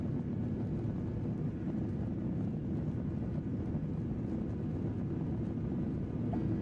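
Airplane engine in a flight simulator video game, a steady droning roar with a low rumbling hum that holds constant throughout, loud and continuous with no talk over it.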